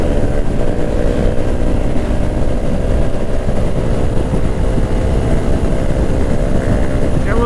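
A 2022 Honda Grom rolling downhill at speed gives a constant, loud small-engine drone buried in heavy wind rush, with no letup from start to finish.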